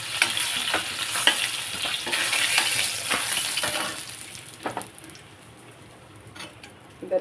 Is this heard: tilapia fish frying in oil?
yes